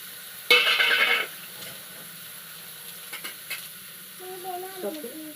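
Eggs hit a hot pan with a loud burst of sizzling for about a second, then settle into quieter crackling frying with a few light clicks and a brief bubbling sputter near the end.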